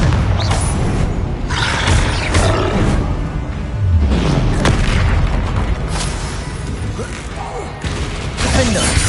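Confringo fire-blast spell explosions in Hogwarts Legacy PS5 gameplay: loud, dense booming blasts and rumbling roars that run continuously amid combat clatter, with a voice shouting spell names now and then.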